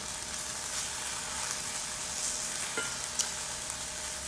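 Vegetables for a veggie quesadilla sizzle steadily in a pan, a soft, continuous broadband hiss with faint crackles and no talking.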